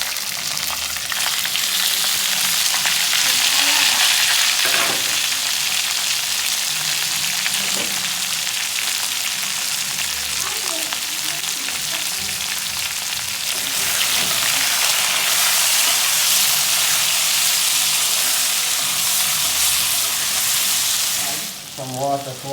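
Seasoning for Jamaican curry chicken sizzles and fries loudly in a pot, a steady hissing crackle that continues with occasional stirring clatter throughout.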